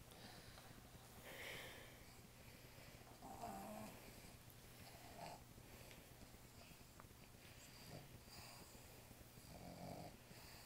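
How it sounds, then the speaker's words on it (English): A dog snores while being petted, soft rhythmic breathy snorts repeating every couple of seconds, quiet and close against a faint steady background hum. "I just think it's awesome how this dog like snores when you pet it."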